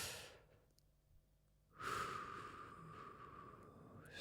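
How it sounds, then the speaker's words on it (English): A single slow, deep inhalation, close and soft, rising out of near silence and drawing on steadily for a couple of seconds, breathy and airy with no talking. "Like, breathe in now."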